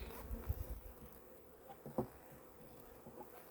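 Honeybees buzzing around an open beehive during an inspection outdoors in wind, a faint continuous hum with a few soft knocks and handling thumps, no talk.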